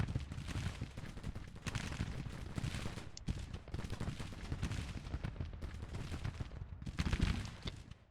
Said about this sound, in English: You can keep on firing. You guys should be firing